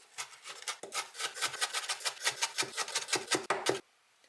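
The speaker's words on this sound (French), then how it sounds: "je vais venir les hacher sur une planche à découper avec un gros couteau" A big knife chops rehydrated seaweed on a cutting board in quick, even strokes, a fast run of close, crisp taps that speeds slightly before stopping abruptly.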